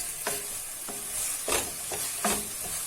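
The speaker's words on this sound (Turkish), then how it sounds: "Kavurmaya şu an için devam ediyorum." Vegetables for Muradiye soup sizzle softly in a pot while a utensil stirs and scrapes through them in several distinct strokes, close and fairly quiet.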